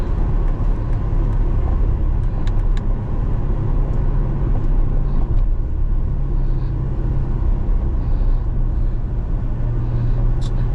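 A manual car drives through downtown West Palm Beach, giving a steady, loud low rumble of engine and road noise with faint traffic sounds over it.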